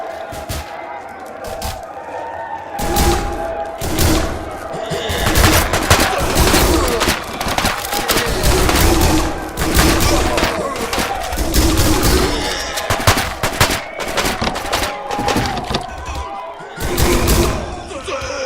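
Gunfire in the Prison Simulator video game, loud repeated shots and fusillades over a busy game soundscape for many seconds, with a person talking throughout.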